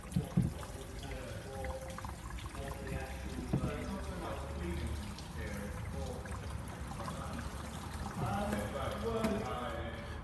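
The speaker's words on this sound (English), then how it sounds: "we're just going to put a bit of water down the back of the light here" Water pours and trickles steadily down behind the rear light of a 2005 Volkswagen Golf, splashing over a hard surface nearby, with voices talking over it throughout.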